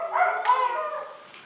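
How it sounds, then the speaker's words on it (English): Gun dogs bark at a shoot, giving a couple of close, sharp yelping barks that fade into a trailing whine. "The gun dogs, they must be starting the shoot again."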